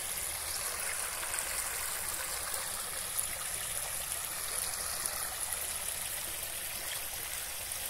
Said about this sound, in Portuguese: Aqui tem uma sanga. Sanga de água.